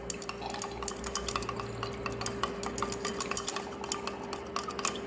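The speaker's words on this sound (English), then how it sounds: "stir it properly so that the soil dissolve in it." A soil sample being stirred in water gives quiet, repeated clinks and scrapes of a utensil against a container, soft and close with a faint steady hum beneath and no talk.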